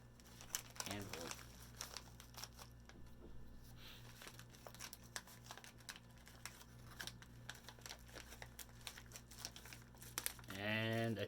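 Paper crinkling and rustling as a tight MyHeritage DNA kit mailing envelope is handled, steady close crackles running throughout, with brief speech at the start and end.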